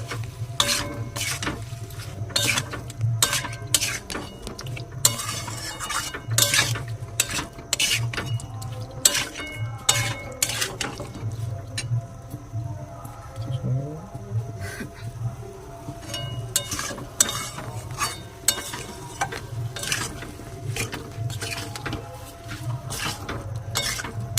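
Chicken kosha stir-fried with spices in a pan, with a steady close sizzle and frequent sharp scrapes and clanks of a spatula against the metal, repeated in quick irregular bursts.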